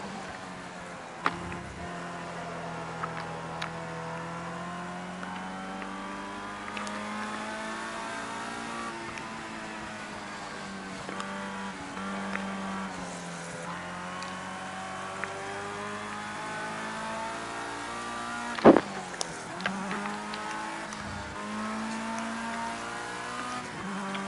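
Race car engine in Project Cars 2 revs steadily through gear changes, with sustained droning pitch that rises and drops, occasional sharp clicks and a brief louder burst near the end, no talk.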